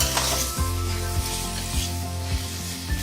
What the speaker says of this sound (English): Stir the potatoes and make sure they don't stick to the pan.